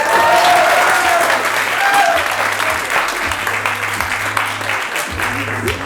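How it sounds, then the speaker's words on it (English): Open mic audience in Dearborn applauding, a loud burst of clapping with scattered cheers that holds strong, then thins slightly toward the end. "Make some noise for Robbie"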